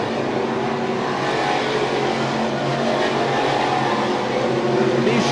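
Sportsman race cars lapping the Autodrome Drummond circuit, engines droning and revving steadily at moderate distance, a continuous loud motor roar throughout.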